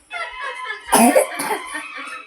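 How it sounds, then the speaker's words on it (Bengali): A single person coughing close by, a short burst of two or three harsh rough coughs in quick succession within a couple of seconds. "আর এই যে কাশি সবসময় কাশি হচ্ছে"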